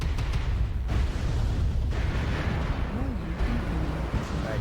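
An incoming missile blast in a video game, with deep rumbling booms and bursts of explosive noise close by, while a voice is heard briefly partway through.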